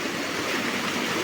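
Water rushes along a mountain stream beside the old Girnar stone-step trail, a dense, steady splashing wash that is close and continuous with no talking.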